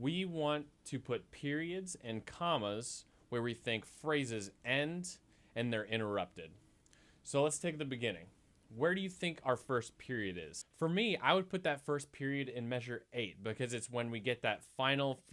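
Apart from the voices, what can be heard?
No everyday noise stands out behind the speech.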